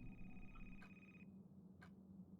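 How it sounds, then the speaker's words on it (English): A telephone rings faintly in the horror video game A Place Forbidden, a thin steady electronic tone that cuts off partway through, followed by a couple of brief soft clicks. "Oh, I hear a phone."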